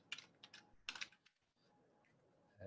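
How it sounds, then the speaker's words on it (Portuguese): A few quick keystrokes on a computer keyboard, short faint clicking bursts close by, then a brief pause. "Vou digitar o nome dela aqui."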